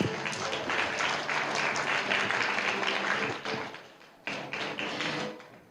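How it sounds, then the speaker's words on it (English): Audience applause at the closing signing ceremony of the 2021 Open Parliament Forum in Taiwan, a sustained round of many hands clapping that fades, pauses briefly and swells again. "Once again, a big round of applause."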